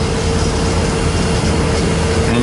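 An SD70MAC locomotive moving a train at the east end of Hobson Yard in Lincoln, Nebraska, gives a steady, loud, low rumble with a constant hum throughout, no voices.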